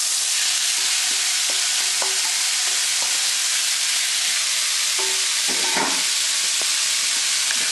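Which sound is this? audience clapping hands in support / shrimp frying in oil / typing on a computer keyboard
shrimp frying in oil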